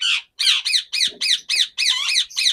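Indian ringneck parrot chicks squawk in a rapid run of harsh, close calls, about eight bursts in steady succession with short gaps, loud and with no talking.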